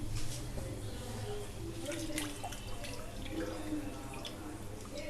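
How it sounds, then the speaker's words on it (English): Water is swished and poured while rinsing a mixer grinder jar in a kitchen during Indian curry cooking, a continuous close sloshing with faint drips and clinks. "Now wash the mixer grinder with a cup of water."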